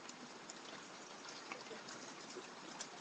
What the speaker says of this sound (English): Yeah, rain's coming down pretty good.